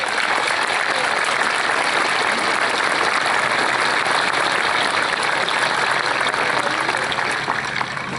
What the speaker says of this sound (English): give a round of applause for Blue Mountain High School, class of